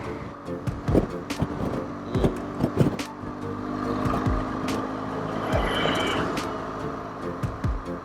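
Car driving on a highway past trucks, with steady road and engine noise swelling as heavy vehicles rush by, plus a few sharp knocks and thumps inside the cabin.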